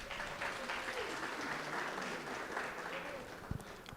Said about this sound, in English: May you please give yourself a round of applause.